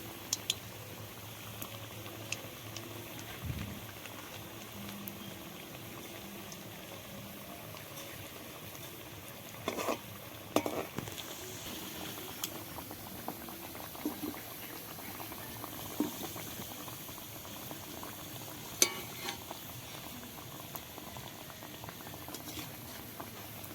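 Homemade biscuits frying slowly on low heat, a quiet continuous bubbling of oil with faint scattered pops and occasional soft clicks, no voices.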